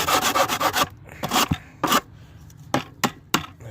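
An old, long-unused trowel drags and grips as it smooths the surface of a chicken coop under repair, giving a run of quick rasping rubs followed by isolated sharp scrapes and pauses.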